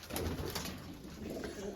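Pigeons coo in low, soft, throaty calls, repeating steadily close by against a faint hiss of background noise.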